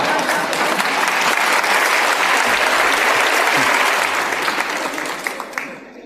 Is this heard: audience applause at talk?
yes